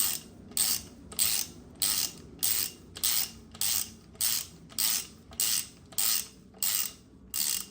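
Ratchet snugging connecting rod bolts on an SBC 383 stroker: a close, brisk run of about a dozen evenly spaced clicking pawl strokes, each a short rasping burst, with no talk.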